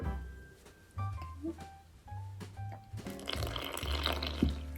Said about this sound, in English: I'm going to slowly add warm water.